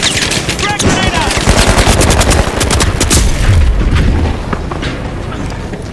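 A frag grenade blasts in a video game amid a firefight, with rapid automatic gunfire bursts and deep booms filling the scene, loud and close, while a voice calls out briefly.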